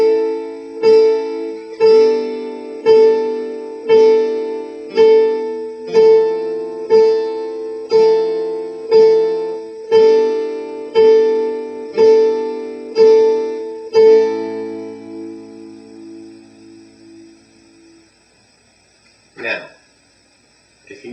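Guitar playing the Olympic Silver beginner exercise alongside a backing CD: a repeated plucked note pattern in a steady, even rhythm for about fourteen seconds, then ringing out and fading, with a brief faint noise near the end.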